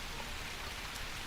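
Steady rain falls as a constant soft hiss with faint patter on surfaces, even and unbroken, alone with no voices, setting a quiet night mood.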